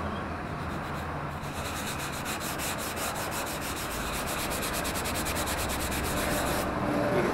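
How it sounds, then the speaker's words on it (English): Plaster on a carport surround being sanded by hand with a sanding pad, a continuous close rasping rub with fast back-and-forth strokes, no talking. "This is just a sanding pad."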